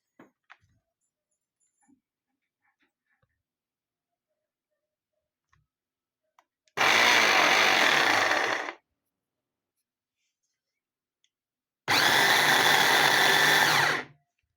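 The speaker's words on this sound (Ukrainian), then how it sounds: "Збиваю блендером кріп з крабовими палочками" A kitchen blender whirs through crab sticks and dill in two loud, steady bursts of about two seconds each, separated by a quiet pause, with faint clicks of handling in the silence before.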